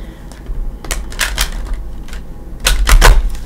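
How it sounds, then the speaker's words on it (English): Tarot cards being shuffled by hand for a psychic reading, giving a few quick bursts of riffling and flicking, then a louder, denser flurry near the end, close up and without talk. "I do like to give it a shuffle or 2 with you here"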